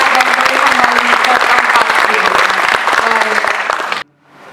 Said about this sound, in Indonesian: boleh kita berikan tepuk tangan Ibu Lydia